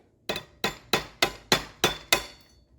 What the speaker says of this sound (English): we're going to take a hammer or a pry bar of some sort and lightly